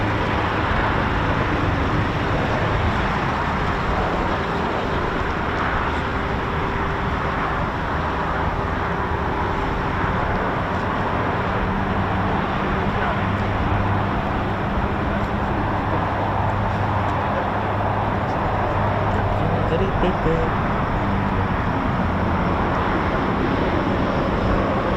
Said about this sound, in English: Okay, so got another Beechcraft Shadow.